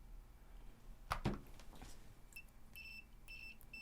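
A few faint electronic beeps from a continuity tester chirp quietly after a brief clack, short tones repeating in a loose pattern in a quiet room while testing a PWM motor speed controller.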